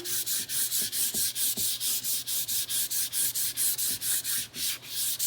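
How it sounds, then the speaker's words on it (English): Steady rhythmic back-and-forth strokes of sandpaper rubbing a surface, close and even, about four strokes per second. "I would recommend lightly sanding"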